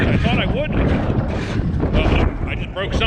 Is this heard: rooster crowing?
no